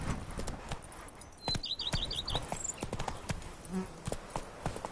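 Roach the horse in the video game The Witcher 3, Blood and Wine expansion, with hooves striking the ground in a quick beat, brief bird chirps in the background and a low whinny near the end.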